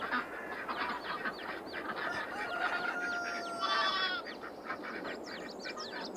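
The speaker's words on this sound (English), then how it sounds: "Our rooster." A rooster crows in a video game farm map, joined by clucking fowl and honking geese in a busy barnyard chorus that runs throughout at moderate, steady loudness, with no one talking.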